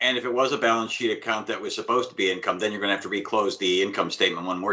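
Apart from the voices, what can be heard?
No distinct noise like a dog, phone or traffic.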